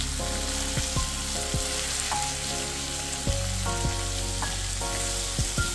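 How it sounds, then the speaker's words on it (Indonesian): Squid and tuna stir-fried in a pan make a loud continuous sizzle close by, with repeated scraping strokes and clinks of a utensil tossing the pieces throughout. "Ini kita bolak-balik supaya kecampur ya, kita aduk-aduk."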